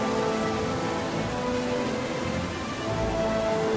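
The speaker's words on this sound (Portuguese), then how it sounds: "Com as temperaturas a rondar os 0 graus, a chuva transforma-se em granizo, que anuncia o inverno." Steady, dense rain close by turns to hail in the polar region as temperatures hover near freezing, a continuous hiss of falling drops with no voices.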